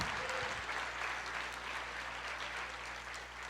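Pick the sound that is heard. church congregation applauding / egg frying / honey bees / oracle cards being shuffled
church congregation applauding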